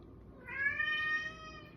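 A domestic cat gives a single drawn-out meow, fairly clear and close, rising and then fading over a low steady background rumble.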